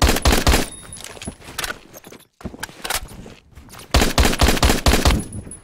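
Sniper gunfire in the online shooter Phantom Forces: loud, sharp shots and rapid bursts crack repeatedly through the clip, broken by a brief near-silent gap before the firing resumes heavily.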